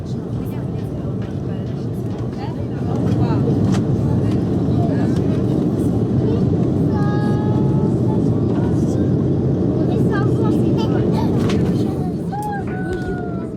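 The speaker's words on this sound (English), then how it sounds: "The taxi at Istanbul Airport ended up taking over 20 minutes because this airport is simply massive." A Turkish Airlines A330 airliner taxis at night at Istanbul Airport, heard from the cabin as a steady low engine and rolling rumble that swells slightly midway, with occasional faint higher whines.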